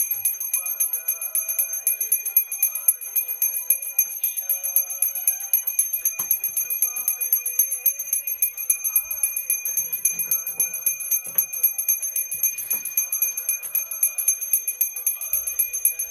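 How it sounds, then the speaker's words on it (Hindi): A bright metal bell rings repeatedly in a steady, insistent rhythm with sustained high tones during a Shivratri celebration in Himachal, loud and close, with no talk over it. "अरे वो देख घंटी यार"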